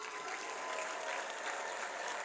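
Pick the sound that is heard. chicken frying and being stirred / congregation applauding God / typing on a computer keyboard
congregation applauding God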